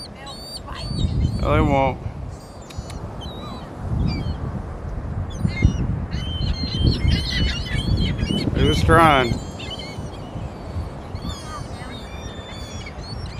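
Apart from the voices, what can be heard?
sea birds squawking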